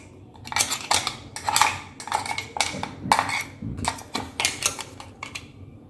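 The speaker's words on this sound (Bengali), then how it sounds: "তো এখানে চলছে এখন পোস্ত বাটা।" Poppy seed paste being ground in a home kitchen, a rhythmic series of sharp scraping and clattering strokes, close and steady.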